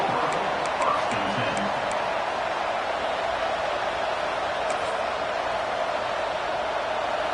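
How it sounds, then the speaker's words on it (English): A football stadium crowd roars in a steady, dense wash of cheering and noise that holds at the same loud level throughout, with a few faint whistles near the start. "This crowd ready to make its presence known."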